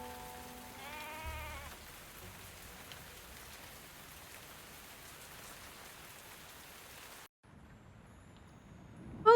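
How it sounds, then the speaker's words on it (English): Steady rain falls on a surface in the cozy fantasy tavern video game Tavern Talk, a constant soft hiss throughout, with a brief bleating animal-like tone near the start and a short dropout before the rain resumes. "More rain. Rainy, rainy, rainy, rainy."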